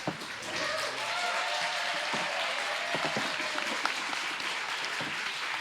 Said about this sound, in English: Can we give one big round of applause for all of our competitors tonight?